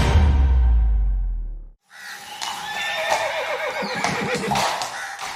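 Horses of the President's Bodyguard of India whinny loudly and up close, with a long descending neigh followed by further calls and a light clatter of hooves.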